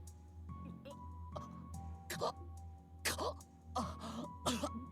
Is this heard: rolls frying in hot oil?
no